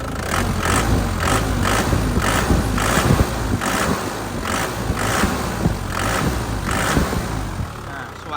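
A warm Isuzu Panther LS Turbo 2015 engine idles close by with a loud, rough, rhythmic pulsing that repeats at an even beat under a steady mechanical clatter.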